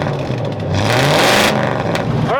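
Laymo land yacht's engine with exhaust leaks, running loud and close, the note rising briefly as it revs before settling back, with no one talking.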